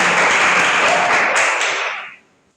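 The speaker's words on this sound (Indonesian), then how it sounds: "Beri tepuk tangan buat Isan" Classroom applause for a student at an automotive lesson, a dense burst of clapping from a group that holds steady for about two seconds and then stops abruptly, leaving near silence.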